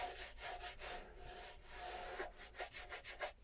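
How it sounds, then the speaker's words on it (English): Steady scratchy rubbing of sanding fiberglass resin on a boat locker, back-and-forth strokes repeating quickly, close and fairly quiet, no voices. "I don't want to have to keep sanding resin"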